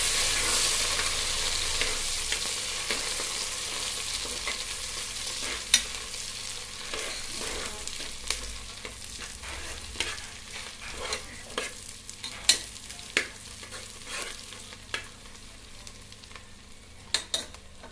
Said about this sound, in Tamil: தாளிக்கிறதுக்கு கிளறி கொடுக்குறோம்.